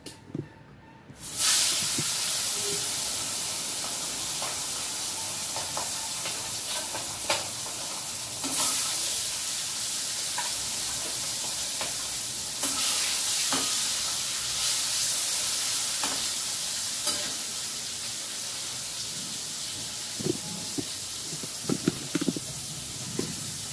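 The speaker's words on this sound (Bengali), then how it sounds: "তেলটা দিয়ে মাছ ভাজা।" Hilsa fish frying in hot fish oil, a continuous close sizzle and hiss with occasional spatters and stirring taps, and no one talking.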